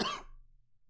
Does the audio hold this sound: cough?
yes